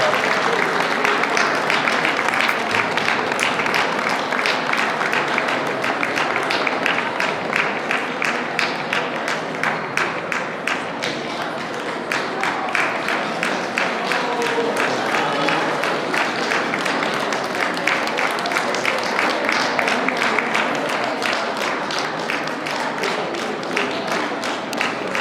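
Sustained applause from an audience at a dog show, clapping steadily for a Boston Terrier throughout, dense and fairly loud with a crowd murmur and a voice speaking over it.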